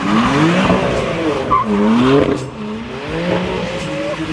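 Tires squealing in a loud, sustained burnout by a BMW F80 M3 on wet pavement, with a roaring engine, the pitch wavering and sliding as the car revs, close and continuous.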